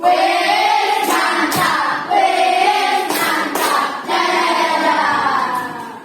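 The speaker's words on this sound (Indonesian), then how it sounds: "Kita beri tepuk apresiasi dulu untuk Hafiz" A classroom of students gives a rhythmic appreciation clap for a classmate, voices chanting together while sharp group claps land in a patterned beat, close and lively.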